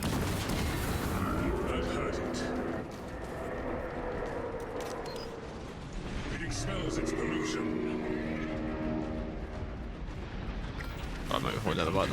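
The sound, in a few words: explosions from the video game Space Marine 2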